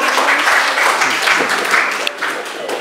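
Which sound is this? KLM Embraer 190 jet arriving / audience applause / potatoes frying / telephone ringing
audience applause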